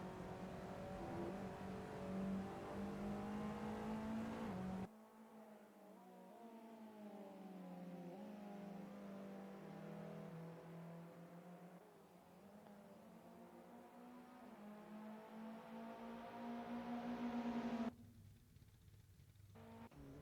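Race car engines in the GTL Legends sim racing game drone and rev continuously, pitch rising and falling through gear changes, with abrupt cuts between cars at about five and eighteen seconds.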